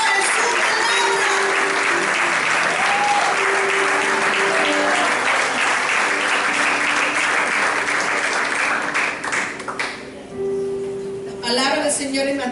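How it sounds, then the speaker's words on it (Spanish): A church congregation applauds, loud and sustained for about ten seconds with cheers mixed in, then fades as a preacher's voice takes over. "Un aplauso al Señor."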